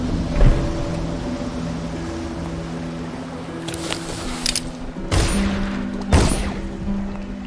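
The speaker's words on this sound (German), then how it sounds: "Hast du die Schüsse gehört?" Gunshots in the video game Dishonored: several sharp, scattered cracks ring out over a steady low humming ambience, with a couple of closely spaced bursts near the end and no voices.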